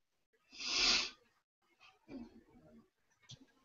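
A single sharp sneeze bursts out, fairly close and loud, followed by a few softer breathy sounds and murmurs.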